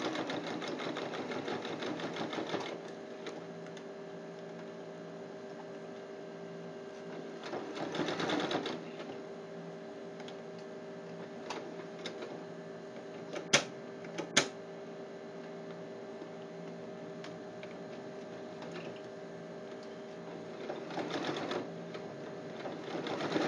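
A sewing machine stitches all the way around a fabric school pencil case, its steady mechanical whir running in long stretches with brief pauses and a couple of sharp clicks, close and alone.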